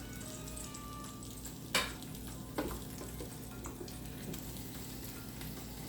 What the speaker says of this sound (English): I'm now turning these on their side. Give them a chance to cook on the top and the bottom.